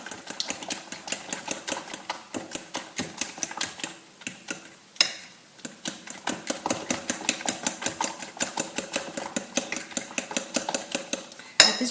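A utensil beats muffin batter of banana mixture in a bowl, giving rapid rhythmic clinks and scrapes that repeat closely for the whole stretch with one short pause, close up and fairly loud.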